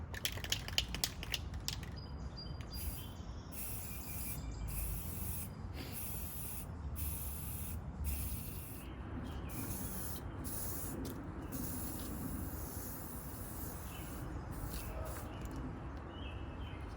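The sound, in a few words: spray priming table in sections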